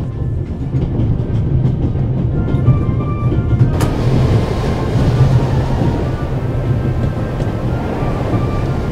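A train rolls along a Swiss railroad in the game The Raven Remastered, a loud, continuous low rumble of wheels and carriage noise with a brief sharp clack midway and no voices.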